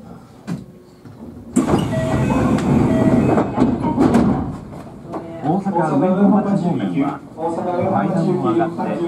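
Rumbling of a Kintetsu Kashihara Line electric train rolling along rails, steady and close, with announcements in Japanese for an express bound for Kyoto spoken over the noise.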